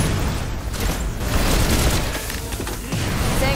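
Dense, loud gunfire and booming blasts roll almost without pause as the player shoots at a boss in the video game Snowbreak, with heavy low rumble under the shots.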